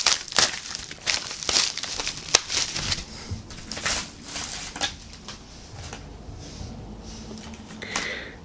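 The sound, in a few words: ripping open a packet by hand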